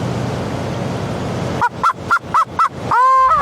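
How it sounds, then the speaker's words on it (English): AI-generated chicken clucking from a text-to-video model: a run of five short, evenly spaced nasal clucks followed by a longer drawn-out squawk, loud and close over steady background noise, with no talking. "I definitely have some nonsensical clucking"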